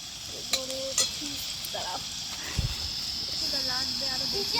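Food stirred and frying in a pan outdoors at a rainy-season forest picnic, a steady sizzle with scattered scraping and clinks, while people talk nearby.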